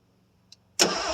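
A 1973 Ford Gran Torino Sport with a 351 Cleveland V8, off the road for 30 years, cranks: near-silence and a faint tick, then the engine suddenly bursts into a loud, rough, roaring start that holds steady.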